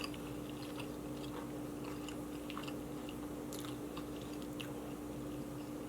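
Someone chews a crunchy Chick-fil-A chicken sandwich close up, with several crisp, crackling bites over a low steady hum and no talking.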